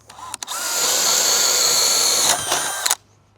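A FlexVolt cordless drill bores through wood with a 7/8-inch Diablo paddle bit, a loud, close, steady high whine lasting about two seconds before a brief tail-off and a final stop.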